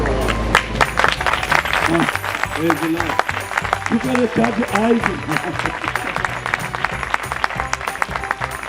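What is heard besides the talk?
congregation clapping in church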